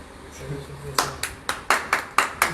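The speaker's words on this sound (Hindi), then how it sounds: "जोरदार तालियां महेंद्र पाल जी के लिए।" Scattered claps ring out at a small public gathering honoring a guest, about eight distinct close hand claps in a loose rhythm following a short stretch of background talk.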